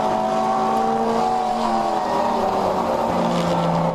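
Endurance race cars, a Corvette among them, passing on a road course at the Joliet Grand Prix, a steady blend of engine drones whose pitch slowly slides lower, heard from a distance without a break.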